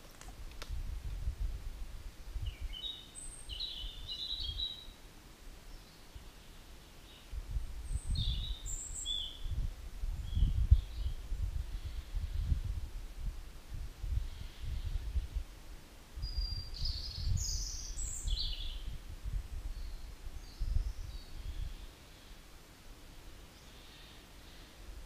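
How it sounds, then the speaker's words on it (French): Birds sing in scattered short bursts on a hike at Cap Corse, faint and distant over low wind rumble and rustling, with no voices while the hikers stay quiet. "Je ne sais pas si vous entendez le chant des oiseaux."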